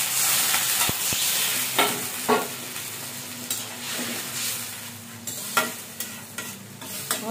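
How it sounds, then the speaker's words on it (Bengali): Egg curry with chopped tomato simmering in a pan gives a quiet, steady sizzle. A spoon scrapes and knocks against the pan at irregular moments, several times over the stretch. "ডিমের সাথে একসাথে ভালোভাবে ডিম আর টমেটোটা কষিয়ে নেব।"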